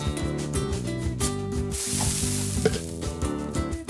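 A brief hissing sizzle of chicken frying in a pan in a kids' cooking video game rises over a cheerful looping game melody and then fades back under the music.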